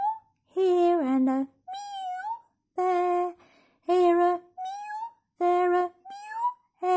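A singing voice imitates a cat's meows in the children's tune Old MacDonald, drawn-out melodic meow-like notes alternating with sung phrases.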